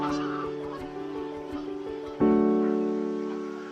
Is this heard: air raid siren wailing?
no